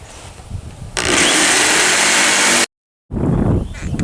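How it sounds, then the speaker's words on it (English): A jigsaw cuts through a wooden cubby shelf section in one loud, steady buzzing burst of about two seconds, then stops abruptly with a brief silence before quieter workshop noise resumes. "And then I'm going to take my jigsaw and cut this out."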